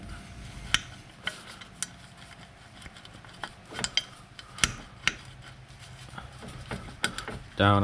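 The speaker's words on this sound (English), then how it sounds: "Take a 13 millimeter wrench, take the box end, and work it around." A 13 mm box-end wrench worked against brake shoe tabs on a Jeep XJ rear disc brake conversion, giving a series of sharp, irregular metallic clicks and scrapes at close range.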